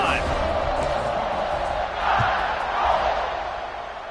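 A football stadium crowd at a college game roars steadily throughout, swelling in waves of cheering with no break.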